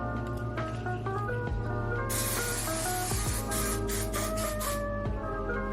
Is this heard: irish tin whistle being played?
no